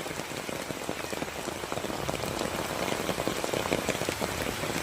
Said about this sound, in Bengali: আর বৃষ্টি হয়েই যাচ্ছে